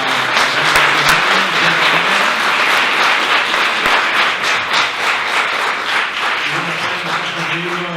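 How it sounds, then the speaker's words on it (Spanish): An audience at a Latin American literary dialogue event applauds author Patricio Pons, a dense, sustained wash of clapping that fills the whole stretch, with a voice faintly audible underneath. "démosles un aplauso a Patricio Pons"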